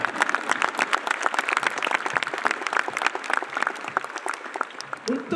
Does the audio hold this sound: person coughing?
no